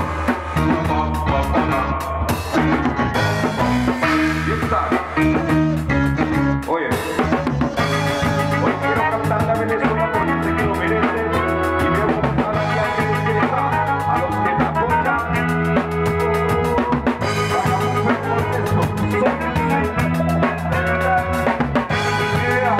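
A band plays a jazz piece with brass, a dense, continuous, full-volume arrangement with sustained harmonic lines and rhythmic accents.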